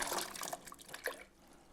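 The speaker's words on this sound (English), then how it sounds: "now we're going to put these in the pot of cold water" Rinsed russet potatoes dropped into a pot of cold water, giving a short run of splashes, drips and trickling liquid up close that fades out after about a second.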